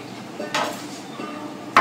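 Two sharp knife chops slicing chili on a cutting board, spaced about a second apart, close and fairly crisp against a quiet background.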